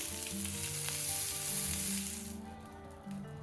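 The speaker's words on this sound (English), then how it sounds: "Saute it for 30 seconds to 1 minute. Then add capsicum and season it well." Capsicum and mixed vegetables sauté in a hot pan for a whole wheat veg pizza topping, giving a steady, loud sizzle with light stirring scrapes that eases off partway through.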